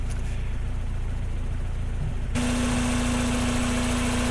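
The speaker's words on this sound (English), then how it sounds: "well, what can you say about the engine? Listen to that, absolute sewing machine." Twin-cam, fuel-injected engine of a Mazda MX5 Mk1 Miata Harvard Edition idling smoothly and steadily close by, with a steady hum that gains a firmer tone partway through.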